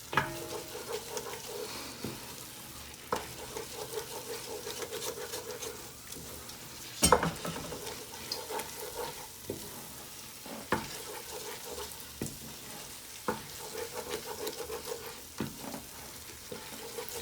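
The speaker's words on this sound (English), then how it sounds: "it's important that you keep stirring, because if you stop stirring, it'll burn on the bottom" A thick, sizzling Mardi Gras mixture being stirred in a pot, with a continuous low sizzle, scraping spoon strokes and occasional sharp clanks against the pot, no voices.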